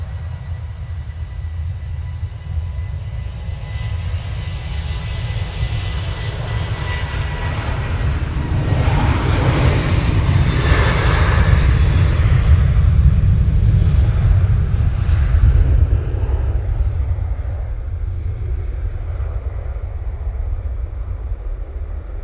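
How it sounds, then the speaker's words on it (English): Ryanair airliner on its takeoff roll at Manchester Airport, a sustained loud jet engine roar with a deep rumble that swells toward the middle and then eases slightly as it continues, heard from a distance with no talking. "Ryanair now on the roll."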